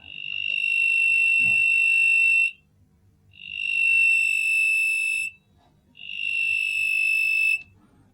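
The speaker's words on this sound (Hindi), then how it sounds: "साथ में ये बजर भी बज रहा है।" A piezo buzzer on an LDR electronic eye kit, set off by darkness, sounds three long, loud, shrill tones of about two seconds each, separated by short silent gaps, with no speech over them.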